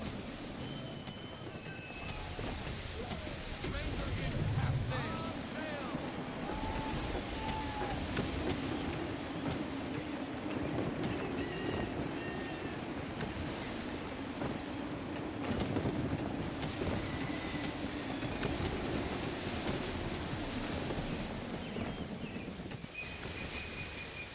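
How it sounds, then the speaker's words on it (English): Gusty wind roars steadily over open sea in Assassin's Creed III, with rushing air, lapping water and a creaking sailing ship, a continuous buffeting wash with faint high whistles and no talking. "Wind looks to be shifting. Stay alert, Connor. Gusty winds can be difficult to manage."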